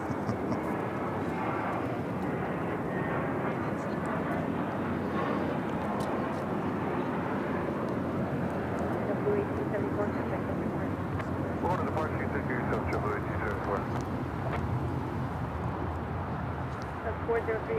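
Airliner jet engines rumbling at LAX as an Air China 747-400 freighter pushes back, a broad, steady roar heard from some distance, with someone talking over it throughout.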